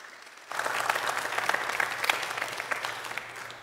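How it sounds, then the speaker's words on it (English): A church congregation breaks into applause during a morning service, the clapping starting abruptly and holding steady and fairly close for about three seconds before easing slightly. "So let's give her and Joel a round of applause"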